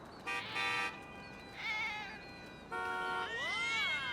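Several drawn-out cat meows, three separate calls with the last rising and falling in pitch like a yowl, fairly close and loud with no talking over them.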